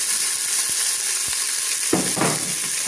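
Chopped onion sizzles in a hot pot, a steady loud frying hiss close by, with soft stirring knocks and a burst of sharper crackle partway through.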